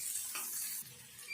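Soaked chana dal fries in oil in a pan for a mutton-style curry, giving a soft steady sizzle with light stirring scrapes partway through, close and without talk.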